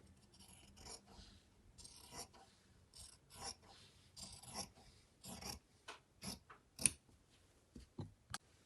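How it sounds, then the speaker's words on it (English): Scissors cut through fabric bunting flags, making a quiet, close series of irregular snips and rasping slides, some quick and clustered, others spaced apart. "But I'm just going to use scissors."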